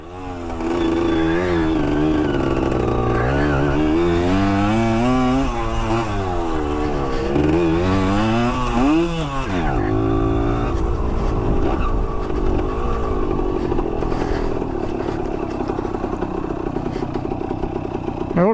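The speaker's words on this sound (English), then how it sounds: "It was an enduro bike. We'll take it up around my little path through the woods." Vintage Kawasaki enduro motorcycle ridden on a woodland trail, its engine revving up and down loudly and continuously, rising and falling in pitch as it accelerates close by, then settling into a steadier rough drone.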